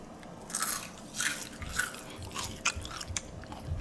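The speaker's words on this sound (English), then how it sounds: "You hear that crunch?" Crisp crunching bites into the fried skin of a deep fried buttermilk pork chop, several sharp crackly bursts spaced through a few seconds, close and fairly quiet with no talk.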